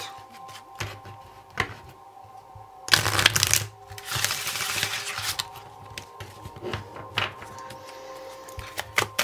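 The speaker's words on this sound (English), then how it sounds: "You saw me shuffle the deck." A deck of tarot cards is shuffled by hand in repeated riffling bursts, close and fairly loud, with a dense flurry in the middle and scattered lighter card taps and slides around it, no voices.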